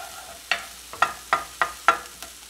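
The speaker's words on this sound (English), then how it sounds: "we're just gonna let those cook in the butter for a second" Onions and sausage cooking in butter in a pan, heard as five sharp, evenly spaced stirring scrapes over a faint background sizzle, close by and without talk.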